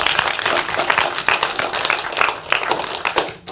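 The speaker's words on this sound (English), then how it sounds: "Can everybody clap for Aurora?" An audience at a live city council meeting claws out scattered applause for a speaker, a dense, uneven patter of hand claps lasting several seconds in a reverberant room.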